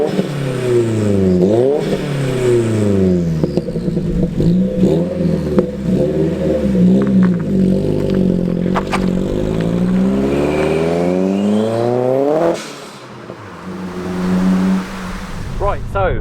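A Mk1 Ford Focus RS driving and accelerating, its engine revving up through the gears with rising and falling pitch sweeps, close and loud, with someone talking over it.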